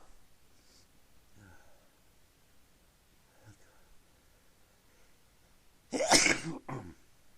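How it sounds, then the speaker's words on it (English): One sharp, loud sneeze into a handkerchief breaks a near-silent stretch, preceded by a few soft breaths and faint rustles and followed by a brief sniff. "Sneeze."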